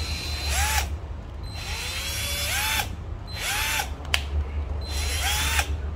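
A Black & Decker 12V cordless drill with LED light, 10 clutch settings, a drill mode and a 10 mm chuck whirs up in four short revving bursts, pitch climbing and dropping each time, over a steady low background hum.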